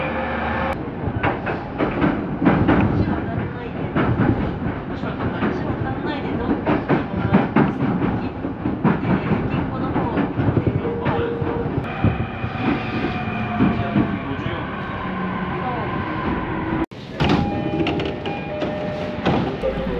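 A long-distance local electric train rolls into Numazu terminal station with loud, continuous rumbling and rhythmic clattering of wheels over rail joints. Brief squeals and a sharp break come near the end as it slows.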